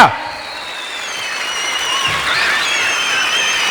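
A large conference crowd applauds steadily, a dense, continuous wash of clapping that swells slightly, with whistles and cheers mixed in.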